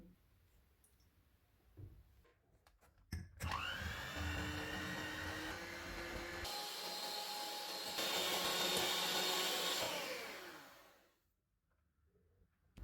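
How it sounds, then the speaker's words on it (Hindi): Electric mixer whipping cream flavoured with vanilla essence: a steady, loud motor whine starts abruptly, holds with shifting pitch for several seconds, then cuts off into near silence. "इतनी देर में क्रीम को व्हिप कर लेते हैं।"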